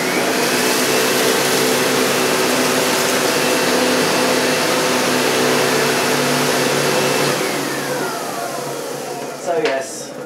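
A Sebo Ensign SM2 upright vacuum cleaner runs with a loud, steady motor whine and airflow roar, holding constant for most of the stretch before dipping slightly near the end with a brief clatter.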